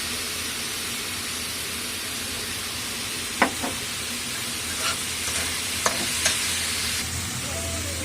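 A stir-fry for momos sizzles steadily in the pan as vinegar goes in, a constant broadband hiss with a few brief clinks and scrapes of stirring, close and even throughout.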